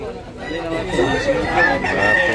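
Roosters crow repeatedly at a busy open-air chicken market in Tabunok, Cebu, their calls overlapping one another against a steady crowd murmur and nearby clucking, with people talking throughout.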